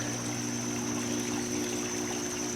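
Pool water drains through a hose plugged into a pump at the end of the season, a steady close rushing and trickling flow beneath a constant motor hum.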